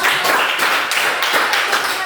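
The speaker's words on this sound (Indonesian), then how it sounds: "Silakan beri tepuk tangan untuk saya" A classroom of pupils claps their hands in quick, uneven bursts, a close, bright patter of many hands that keeps going steadily for the whole stretch.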